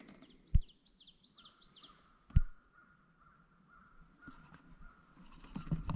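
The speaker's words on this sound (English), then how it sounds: "Crows are calling." Crows caw in a quick run of harsh calls early on, then one more caw, outdoors by weedy water while northern pike fishing on a warm, sunny day. Sharp knocks and a steady hum sit beneath the calls.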